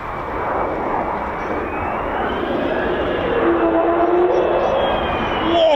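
An F-15 or F-35 fighter jet of the 48th Fighter Wing makes a low approach at RAF Lakenheath, a broad jet roar building steadily louder with a rising whine toward the end.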